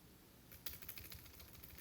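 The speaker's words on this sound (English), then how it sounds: "So I'm going to start typing." Quick, light keystrokes on a computer keyboard while writing a cover letter, a short faint burst of clicks in a quiet room with no voices.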